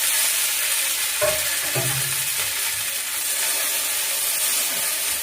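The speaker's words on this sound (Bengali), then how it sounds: "এতে এবারে টমেটোটা দিয়ে দিচ্ছি।" Tomato dropped into a pan of onion, garlic and ginger frying in oil, bringing a steady loud sizzle with a brief stirring scrape in the middle.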